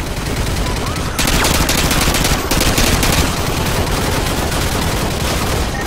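Dense, loud, continuous gunfire from Call of Duty Modern Warfare 2, sustained automatic bursts roaring close with no break over a battlefield din.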